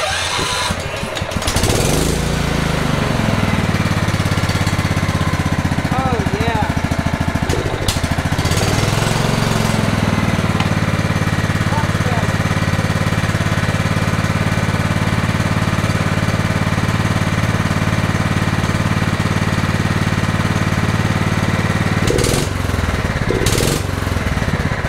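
An old Woods tractor engine runs for its first test after a head gasket repair. It starts up, revs briefly, then settles into a loud, steady close-up chug, with a few revs near the end.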